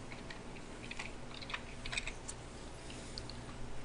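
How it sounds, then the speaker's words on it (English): Faint, quick clatters of fingers typing on a computer keyboard come in uneven bursts over a quiet room hum, with no talking. "The DM is typing."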